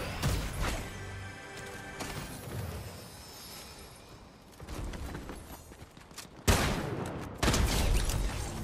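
Rapid bursts of cartoon gunfire from Cuphead, loud crackling volleys that start and stop in several stretches, with harsh smashing impacts between them.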